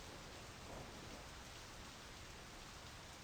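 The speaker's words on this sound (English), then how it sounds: "I wonder how loud the rain is in the shed." Rainfall in the video game My Summer Car, a steady, faint, even hiss of rain on surfaces with no other sounds over it.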